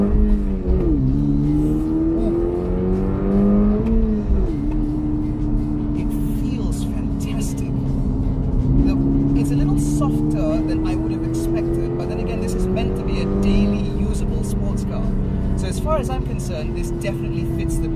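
A 2023 Toyota GR86 manual sports car with a 2.4-litre engine drives along, its engine note droning loud and steady and rising and falling with throttle changes while someone talks over it from inside the cabin.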